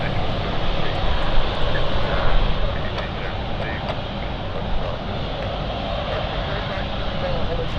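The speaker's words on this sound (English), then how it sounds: "So the Brussels flight of Lux Aviation Belgium is on final now." Lux Aviation Belgium jet from Brussels on final approach to London City Airport, a steady broadband engine roar held at moderate level throughout with little change, heard from the ground.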